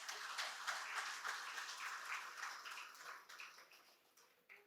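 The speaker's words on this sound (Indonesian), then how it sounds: "kita kasih aplaus" A crowd applauds at the opening ceremony of the SILATNAS IIBF national event: dense, steady clapping from many hands that holds strong, then thins and fades near the end.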